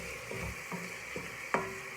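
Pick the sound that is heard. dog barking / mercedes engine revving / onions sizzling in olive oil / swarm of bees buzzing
onions sizzling in olive oil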